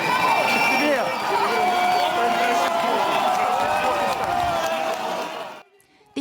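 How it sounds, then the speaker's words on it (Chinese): Supporters cheer loudly at Kyiv's international airport terminal, a dense crowd roar with shouts and whistles that holds steady for several seconds before cutting off abruptly near the end. "在支持者欢呼声中，"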